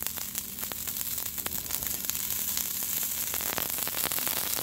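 Leftover Chipotle Mexican Grill food with rice heating on a very hot skillet, a steady close crackling sizzle with scattered sharp pops over a faint electrical hum.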